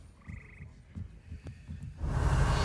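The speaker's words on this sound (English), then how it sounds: "There's so many frogs in here." Frogs in a video game croak in a steady rhythmic series of low pulses, fairly near, before a louder rushing noise swells at the end.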